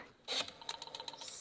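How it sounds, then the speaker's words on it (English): A quick series of soft mechanical clicks and ticks, like a rotary phone dial turning and returning, close and fairly quiet. "went to the phone and dialed"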